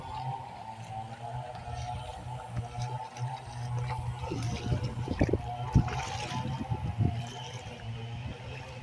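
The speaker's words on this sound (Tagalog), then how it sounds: "Ito pong ilog na ito ay buhay na ilog ito." A flowing river runs across a coconut farm property, with a steady outdoor water wash and gurgling ripples that swell in the middle, a low constant hum underneath.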